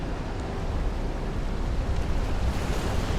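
Huge storm waves crashing against a cliff under thundery skies, a loud, continuous roaring surf wash with wind noise, steady throughout without pauses.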